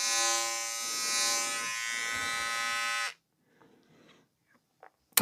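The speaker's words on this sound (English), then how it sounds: "So that's the mini trimmer." A Braun Silk-épil 9 epilator with its mini trimmer attachment running close up, a steady buzzing whir that holds for about three seconds and then cuts off, followed by faint handling clicks.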